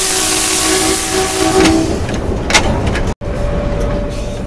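The Attock safari train running near Burhan station, a loud steady rumble of the carriages with a sustained tonal hum that fades after a couple of seconds, then a brief dropout and continued rolling noise.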